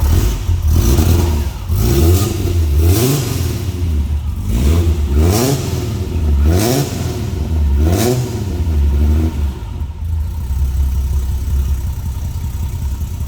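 A 1984 Alfa Romeo GTV 3.2L engine revs up and down repeatedly in loud, rhythmic surges, then settles into a rumbling idle near the end.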